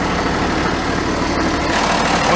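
A farm tractor engine idles close by, a loud, constant low rumble with an even mechanical drone and no change in speed.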